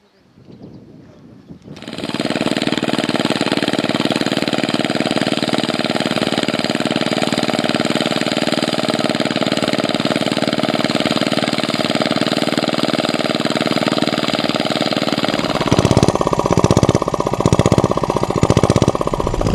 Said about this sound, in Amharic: ሞተሩ መዚያው ተጠምዶ ውሃ ያለቀበት ነው